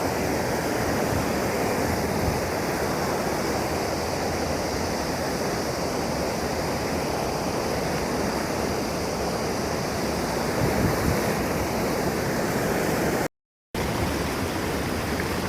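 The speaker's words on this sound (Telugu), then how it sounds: "వాటర్ ఎలా ఫాల్ ఫాల్ అవుతుందని ఇదిగో చూడండి" Loud, steady roar of water rushing and falling from the Adinimmayapalli dam in strong flow, continuous broadband noise with no voices, briefly cut out near the end.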